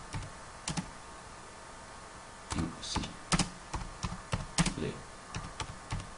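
Typing on a computer keyboard while an email message is written, with irregular bursts of close, crisp key clicks and short pauses between them, and faint speech briefly in the background.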